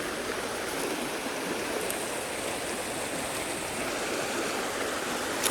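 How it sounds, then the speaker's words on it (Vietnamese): A large forest stream rushes steadily and loudly, a dense continuous wash of flowing water with no pauses and no voices. "Suối to quá"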